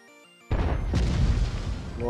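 A tank gun fires at a house in World of Tanks, a sudden loud boom that cuts off a tonal game sound and rolls into a long rumbling, crackling decay.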